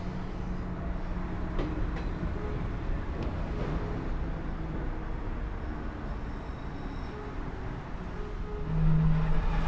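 Steady low rumble from inside a moving passenger train in Fremantle, Australia, with faint rhythmic clicks and rattles of the carriage and no talking.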